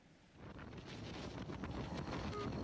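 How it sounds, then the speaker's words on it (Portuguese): Strong wind gusts buffet the microphone in a low, steady roar that swells over a few seconds, fairly faint overall. "E o primeiro vídeo de hoje mostra uma grande ventania."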